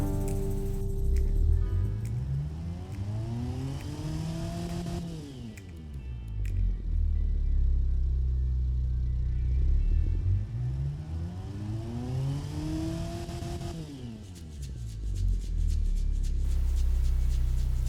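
A video game car engine in Automation revs up and down twice in long sweeping rises and falls, loud and close, with a steady low rumble between the surges.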